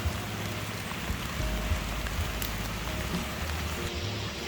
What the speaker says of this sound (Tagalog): Naulan na talaga